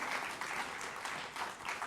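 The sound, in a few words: audience applause welcoming Anurag Thakur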